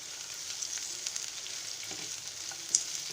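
Onion fries in hot oil with lightly browned garlic in a pan with a soft, steady sizzle, close and quiet, with a faint clink of stirring near the end.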